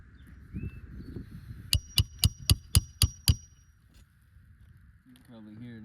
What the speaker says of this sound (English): From that first hammer strike, I'm seeing aggregate loss